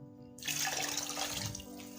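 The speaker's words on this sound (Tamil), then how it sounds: "அந்த தண்ணி கொஞ்சம் சேர்த்துக்கோங்க." Tamarind water is poured into a cooking dish, a short splashing gush that starts abruptly after a quiet moment and carries on close by, alone.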